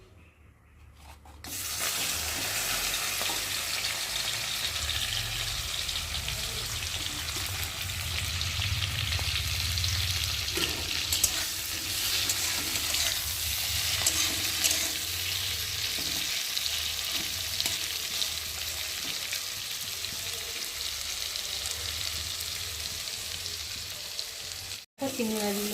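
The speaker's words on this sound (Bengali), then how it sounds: "আর তেলটা গরম হয়ে গেছে, আর এখন আমি চিংড়ি মাছগুলোকে দিয়ে ফার্স্টে ভেজে নেব" Prawns dropped into hot oil sizzle loudly and continuously for a long stretch, close by, with occasional stirring and clatter under the hiss and no clear talking.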